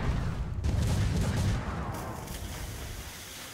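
Ship cannons fire in the naval battle game Port Royale 4, a dense rumbling volley of booms that swells loud and then fades into a low roar.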